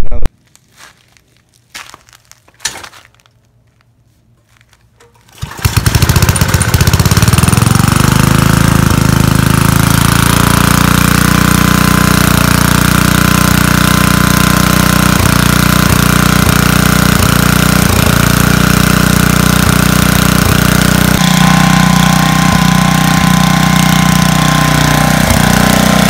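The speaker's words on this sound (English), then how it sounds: "So if we can get this generator to start now." A portable generator on an RV with a brand-new battery. A few quiet clicks and rattles come first, then the engine catches and settles into a loud, steady running drone that holds to the end.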